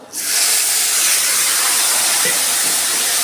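Water hits hot oil with turmeric in a pan, a loud sudden hiss that surges in and holds as a steady close sizzle.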